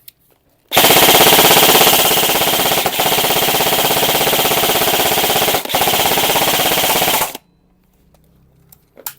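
E&C 623 CQB airsoft gun with a silencer fires full auto in one sustained burst of about six and a half seconds, a rapid mechanical buzzing rattle with two brief hitches, loud and close and heard alone.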